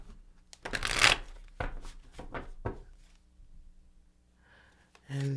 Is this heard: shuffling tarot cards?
yes